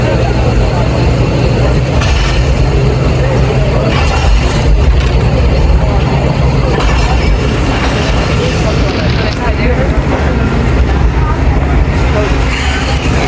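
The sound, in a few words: Jaffar Express train departing Rawalpindi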